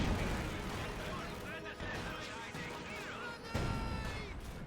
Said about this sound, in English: This gun barrage coming on in.